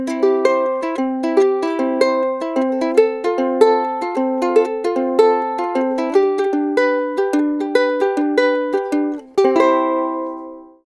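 Finger picking on a ukulele with poor intonation, heard alone and close, as a steady flow of plucked notes forming arpeggiated chords, ending on a ringing strum that fades out.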